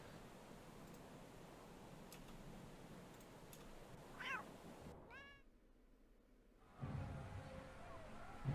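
A cat in Neverwinter Nights meows a couple of times, short rising calls over a low ambient game hum, followed by a brief quiet gap before the background noise returns.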